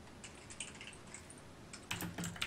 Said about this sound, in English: Someone is typing a lot.